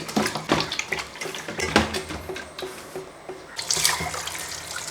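Raw chicken is washed in a vessel under running water, with splashing, sloshing and dripping water and occasional light clinks of the pot, fairly close and without talk.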